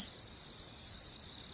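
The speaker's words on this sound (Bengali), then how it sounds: "বাইরে ঝিঝি পোকা ডাকছে" Crickets chirping in a steady, continuous high trill, pulsing evenly against a quiet night background.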